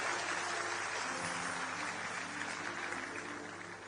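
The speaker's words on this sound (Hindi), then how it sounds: "आपकी तालियां कमजोर पड़ गई हैं" Audience applause at a large seated gathering, a dense continuous wash of clapping held fairly far off and fading slightly toward the end.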